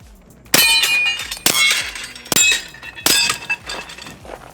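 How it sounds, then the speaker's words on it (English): Four suppressed pistol shots with subsonic ammunition from a ZEV Tech OZ9 HyperCOMP with metal frame, each a sharp muffled crack followed by a metallic ring and the clink of ejected casings, spaced about a second apart. "let's hear how quiet this thing sounds"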